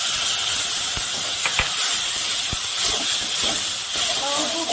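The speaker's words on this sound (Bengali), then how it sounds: "এবার টমেটো বাটাটা দিয়ে দিলাম।" Tomato paste sizzles loudly in hot oil with lightly fried onion in a home kitchen pan, a steady close hiss with scattered pops and crackles.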